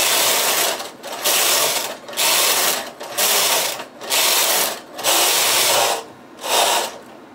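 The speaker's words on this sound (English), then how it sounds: "Then I use the lace carriage." A lace carriage drives across a knitting machine, a loud whirring mechanical rasp in steady passes of about a second each, broken by short pauses as the carriage reverses, close and without talk.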